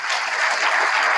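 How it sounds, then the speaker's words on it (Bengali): An audience at a promotional get-together program in Bandarban claps in a short, even burst of dense applause. "আমরা সবাই সবার জন্য একটা করতালি আশা করছি"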